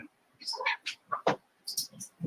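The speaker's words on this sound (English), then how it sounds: "And my cat is loud." A house cat makes loud, repeated vocal calls, several short bursts in a row close to the listener, with brief pauses between them.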